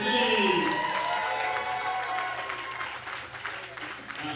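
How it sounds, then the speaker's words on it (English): A crowd at a powerlifting competition applauds a lifter, a burst of clapping and cheering under a voice over a loudspeaker, gradually fading over a few seconds. "So everyone give her a round of applause for Lily!"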